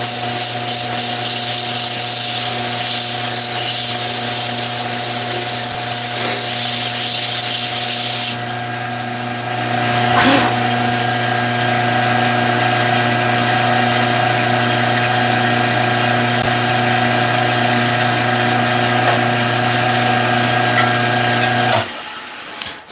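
A wooden yo-yo spins on a woodturning lathe with a loud, steady motor hum, while sandpaper adds a hiss that stops partway through. The lathe keeps droning until it winds down near the end, and no one talks.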